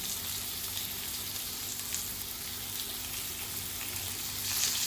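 Brinjal and potato slices fry on a tawa with a dense, continuous close sizzle and crackle, steady and fairly loud from start to finish, with no talking.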